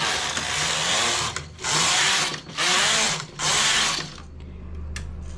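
A knitting machine carriage, knitting the straight sleeve of a balloon-sleeve sweater, is pushed back and forth in four loud, close, rasping sweeps with brief gaps, then a low mechanical hum as the passes stop.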